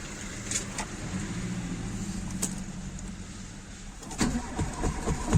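A Volkswagen car engine cranks and starts, then runs with a low steady rumble, close by, with a few clicks and knocks and a louder rise toward the end.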